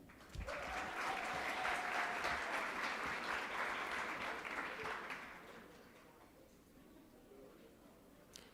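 Audience applauding nursing honor society students at a fall pinning ceremony, a sustained round of clapping that holds steady for about five seconds, then fades to scattered claps and room murmur.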